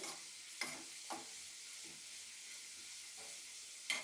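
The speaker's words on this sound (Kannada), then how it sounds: "ಬೆಳ್ಳುಳ್ಳಿಯನ್ನು ಸ್ವಲ್ಪ ಕೆಂಪಾಗೆ ಫ್ರೈ ಮಾಡ್ಕೋರಿ" Garlic frying in oil in a pan for hotel-style dal, a soft continuous sizzle with a few brief stirring scrapes, quiet and without talk.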